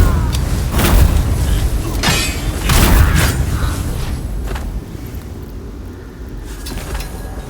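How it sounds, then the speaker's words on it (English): A grenade explodes in the action game The First Berserker: Khazan, heavy booming bursts over a dense, rumbling combat soundscape with mechanical clatter, loud and close, fading slightly toward the end. "Grenade!"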